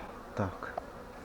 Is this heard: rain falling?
no